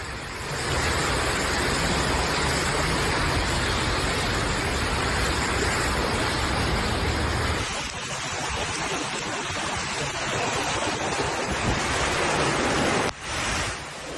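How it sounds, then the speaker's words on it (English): Floodwater sloshing through knee-deep city streets as pedestrians wade, a steady broadband rushing wash that fills the scene, shifting texture midway and briefly dipping near the end. "Pedestrians struggle to move in knee-deep water."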